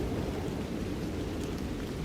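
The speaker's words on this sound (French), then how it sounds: "Il pleut encore." Steady rain falls outdoors in Iceland near a river, a dense continuous patter and wash without pause, fairly quiet and close.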